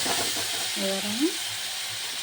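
Tomatoes hit hot oil with spices in a pan, giving a soft, continuous sizzle and hiss, with a brief voice-like tone and a small clatter in the middle.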